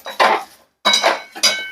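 A spoon stirs puffed rice into hot jaggery in a pan while making puffed-rice chikki, producing three loud, close bursts of scraping and clinking against the metal, separated by brief pauses.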